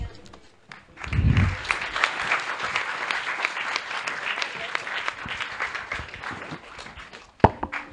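A conference audience at a medical session breaks into a loud, sustained round of applause after a brief pause, clapping dense and even until a sharp knock near the end.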